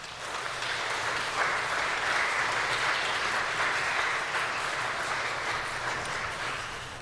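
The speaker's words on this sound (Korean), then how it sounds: "우리 따뜻한 박수로 목사님을 맞이하겠습니다." A church congregation gives warm, sustained applause to welcome the pastor, a broad even wash of many hands clapping from across the room, holding steady for several seconds.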